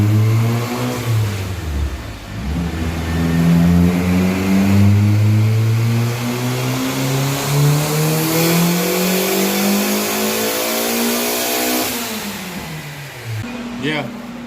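A turbocharged Honda GSR engine revs hard on a dyno, its loud tone climbing steadily through a long pull for about twelve seconds before dropping off sharply, with voices heard near the end.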